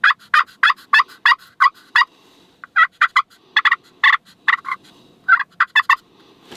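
A series of bright, soft turkey calls from a call in short bursts, clucks and yelps repeated at an irregular rhythm, fairly close and clear over a quiet background, while scouting for spring gobblers in Maine.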